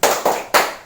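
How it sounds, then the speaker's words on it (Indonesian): A group of women in a community session performs a rhythmic clapping routine, three sharp, loud bursts of hands in quick succession, close and without voices. "Tepuk salut untuk kita semuanya ibu."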